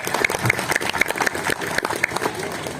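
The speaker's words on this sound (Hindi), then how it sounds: "ताली बजाओ, क्या देख रहे हो?" A crowd at a BJP political rally claps in a brisk, uneven burst of applause, individual hand claps audible in a fairly close, lively rhythm throughout.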